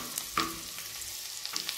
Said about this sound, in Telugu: యా బటర్ మెల్ట్ అయ్యింది, సో దీంట్లో ఫస్ట్ గార్లిక్ ని వేస్తున్నాను